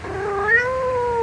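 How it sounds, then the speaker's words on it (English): A white cat sitting by a garden pond gives a single drawn-out meow that rises and then slowly falls, heard close and clear with nothing else around it. "He saw a white cat sitting near the pond, looking at the goldfish that was swimming in the water."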